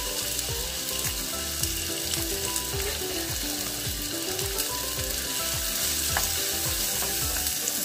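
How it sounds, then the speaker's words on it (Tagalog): Onion sautéing in a pan for ginisang monggo, a dense continuous sizzle with crackles and scraping stir sounds throughout, close and steady, with no talk. "Saute it until loosen"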